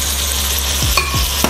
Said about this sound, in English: So I'm gonna saute